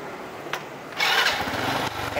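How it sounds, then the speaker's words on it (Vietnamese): A motorcycle engine at a motorbike shop cranks and fires up, a brief tap followed by a sudden steady running roar that holds close and loud to the end. "mình nổ máy thử Vũ."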